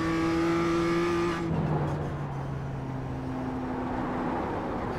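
A BMW M2 in a racing video game holds a high revving engine whine that cuts off sharply, then settles into a lower droning tone with faint tire noise, continuous and close.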